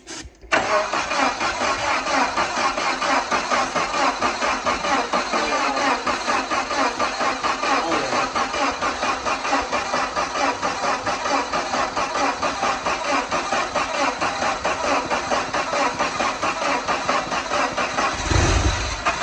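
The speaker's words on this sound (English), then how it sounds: "Oh, yeah! It'll go." An old forklift engine cranks and catches, then runs loud and steady with a rough, rattling idle for the whole stretch, close by and with no talking over it.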